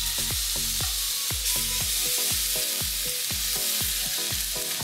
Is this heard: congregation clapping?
no